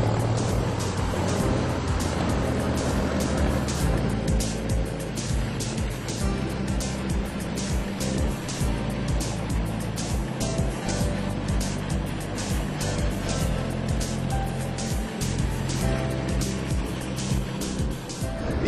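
A 1914 Opel race car runs fast at over 120 km/h down a former Air Force runway. Its engine roar stays loud and steady throughout, with rough, rumbling low-end pulses and wind noise and no voices.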